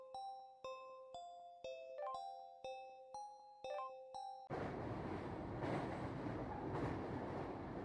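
A multi-note station chime rings out clearly in a rising and falling melody, then gives way to the loud, steady rumble and rattle of a late-night train home, with no voices.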